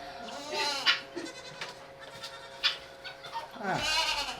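Goats bleating during a hoof-trimming session on a farm, several nasal bleats rising and falling at intervals, fairly close, with people talking quietly in the background.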